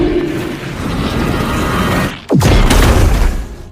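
An explosion in a film scene as spilled jet ski fuel ignites on water, a rising whoosh that bursts into a loud, deep roaring blast after a brief lull.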